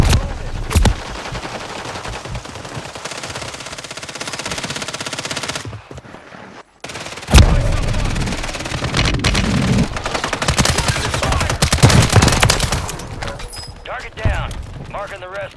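Rapid machine-gun bursts and scattered gunshots from a Call of Duty Warzone match, loud and dense, with a brief drop to near silence midway before the firing resumes, under a game voice.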